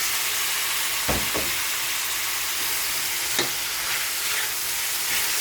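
Tomatoes and softened meat sizzling in a pan while being stirred for pinakbet, a steady loud frying hiss broken by a few sharp scrapes of the spoon.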